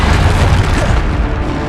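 A loud, close Bombarda spell blast from Hogwarts Legacy, a deep booming explosion with rumbling debris that fades slightly toward the end.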